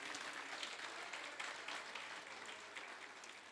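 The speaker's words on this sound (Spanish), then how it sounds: "Denle un fuerte aplauso al Señor Jesucristo" A church congregation clapping for Jesus Christ after a sermon, steady dense applause from many hands, faint and distant throughout.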